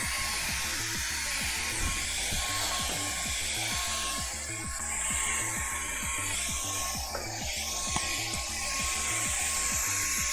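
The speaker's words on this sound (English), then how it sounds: "I'm going to have to hold my blow dryer there for a minute." A blow dryer is held close over a thick spot to dry heavy globs, giving a constant whirring roar with a fast, regular low pulsing and a faint steady whine, uninterrupted for the whole stretch.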